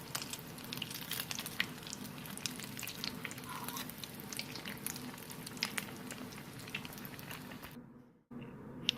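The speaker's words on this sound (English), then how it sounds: "And it don't take too long to fry these up. I mean, they fry up quick" Boudin balls deep frying in hot oil give a dense, even crackling sizzle that holds steady and close for several seconds, then cuts off abruptly near the end.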